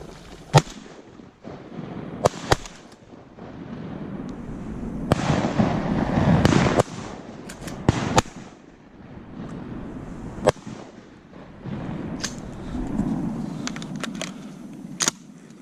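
Shotgun blasts during a fall waterfowl hunt, several sharp distant-sounding reports scattered irregularly over rushing outdoor background noise, some in quick pairs, with muffled voices between shots.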